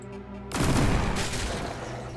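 Burst-fire gunshots in Deep Sky Derelicts, a sudden loud dense volley after a quiet musical lead-in, with a rumbling tail.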